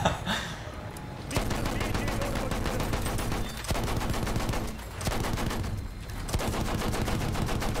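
Battlefield 1 open beta gunfire, dense rapid automatic shooting in sustained bursts with brief gaps, loud and close, backed by game ambience and no clear talk.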